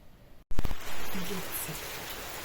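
Rain falls steadily in hot weather at a building site, a dense hiss of drops after a sharp knock, with someone speaking over it.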